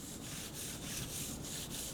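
A hand or cloth rubs across contaminated paint on a Lamborghini Gallardo, giving a close, continuous gritty scraping with faint rhythmic strokes about every quarter second.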